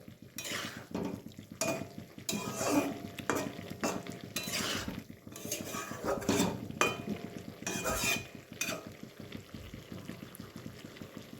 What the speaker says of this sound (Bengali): এখন আলতোভাবে মাছগুলি একটু আমি নেড়ে মিশিয়ে দেবো